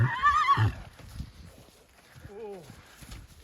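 A mare whinnies loudly at the start, a short call repeated later with a wavering neigh, with faint hoof clops and a voice in the background.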